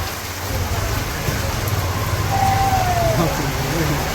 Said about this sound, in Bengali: এই বছরের প্রথম বৃষ্টি আজকে